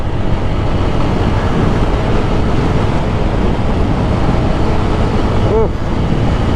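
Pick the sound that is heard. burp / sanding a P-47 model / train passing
train passing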